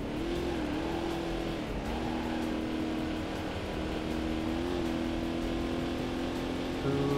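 A racing car in the Corvette: 50th Anniversary game, a C4 Corvette in amateur career mode, accelerating with a steady, droning engine whose pitch rises and shifts through gear changes, loud and continuous with no talk.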